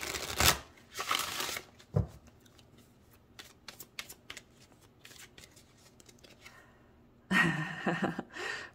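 A deck of oracle cards is shuffled close by in short rustling bursts, with soft flicks and handling sounds between them and breathing audible in the pauses.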